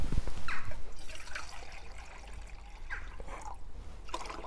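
Half a litre of water poured into a container in a garage, with bursts of splashing and trickling liquid that come and go irregularly, fairly close and moderately loud, with no talking.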